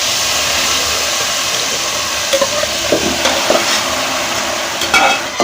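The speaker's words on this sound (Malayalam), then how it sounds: "ചട്ടുകം കൊണ്ട് നന്നായി ഇളക്കി യോജിപ്പിക്കണം" A spatula stirs boiled tapioca and taro in a pan over a steady sizzling hiss, with a few soft scraping knocks near the end and no talk.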